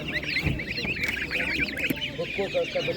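A crowd of ducks at an animal market honking and quacking continuously at close range, with a murmur of voices mixed in underneath.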